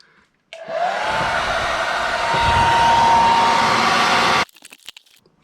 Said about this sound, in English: I'm just going to warm these up with the blow dryer again